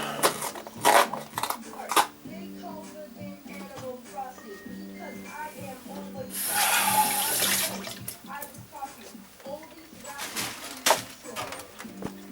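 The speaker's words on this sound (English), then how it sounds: "Pour some of the liquid out." Liquid from a can of black beans is poured out in a kitchen, a brief gurgling splash rising over a few seconds amid handling clatter, with a person speaking before and after.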